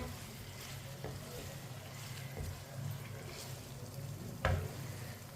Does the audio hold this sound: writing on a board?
no